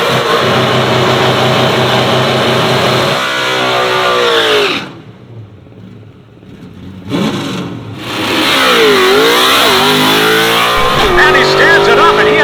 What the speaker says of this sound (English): 86 Ford Mustang. Look at that run.